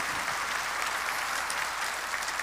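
A church congregation applauds in a steady, sustained wash of clapping, dense and even from start to finish with no voices rising above it.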